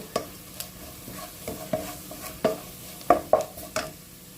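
Soft sizzling of chillies and coriander powder dry-roasting in a pan, with light scraping stirs and occasional clinks, quiet and close, no voices.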